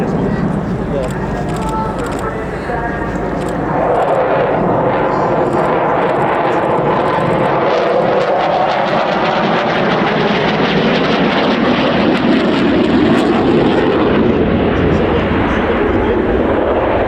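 A Eurofighter Typhoon jet roars past at an airshow at full power, a loud sustained rushing engine roar that swells and holds, with a commentator talking over it.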